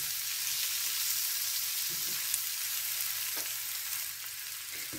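Swiss chard wilting in a hot pan, a soft steady sizzle with a few light stirring scrapes, close and fairly quiet.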